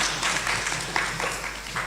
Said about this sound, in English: Let's clap for sister.